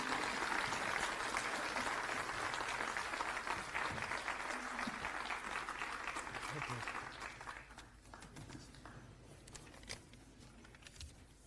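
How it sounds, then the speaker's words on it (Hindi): A crowd gives loud applause to welcome Arvind Kejriwal at a meeting with AAP councillors in Gujarat, dense clapping that holds strong for about seven seconds and then thins out to scattered claps. "अब जोरदार तालियां और खड़े होकर स्वागत करेंगे"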